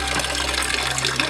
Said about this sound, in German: Hier kann man abspülen und sofort unten drunter geht dann das ganze Wasser entlang